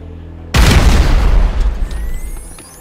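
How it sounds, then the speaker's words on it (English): A set charge going off in Grand Theft Auto 5, one sudden loud blast that erupts after a brief quiet hum, then rumbles and slowly fades over a couple of seconds with faint debris and alarm tones. "An explosion will tend to do that."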